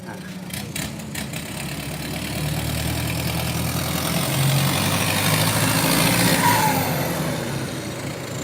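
A used walk-behind tractor engine runs and revs in rough, uneven bursts, loud and close, with a few sharp knocks near the start and voices talking over it at times.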